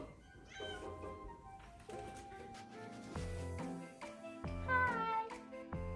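A pet cat meowing, a few short, faint mews mixed into a quiet room with scattered clinks and thumps, fairly soft overall.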